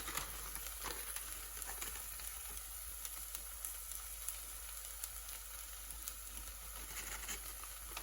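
A snack mixture seasoned with pepper powder and chicken masala being sautéed on a low flame, giving a faint, steady sizzle with light crackling throughout and a low hum underneath.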